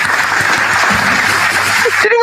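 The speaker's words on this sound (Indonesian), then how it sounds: "Tepuk tangan dong." Dense crowd applause fills a religious debate hall, a steady wash of many hands clapping at once from start to finish, cutting off sharply at the end as a speaking voice returns.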